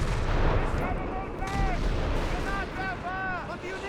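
Heavy gunfire and booming explosions from a Panzer gun being destroyed in Company of Heroes 3, with a dense wall of battle noise and whistling shells throughout, under ongoing game ambience.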